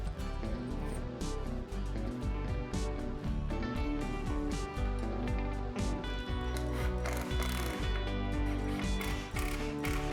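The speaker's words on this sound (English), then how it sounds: "Then, using Z-clips and the provided screws, I secure the bench top to the base" Screws driven through Z-clips to fix a wooden entryway bench top to its base, rapid whirring and clicking of a driver in close, busy bursts across the whole stretch, no speech.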